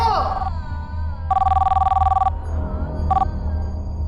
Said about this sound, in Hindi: शुभ्रा देखो तो कहाँ फोन